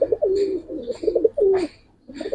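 Close, loud, repeated cooing comes from a flying pigeon at a farm keeping Giribaz and coloured breeds. Throaty, rolling phrases arrive in quick succession with a short silence near the end.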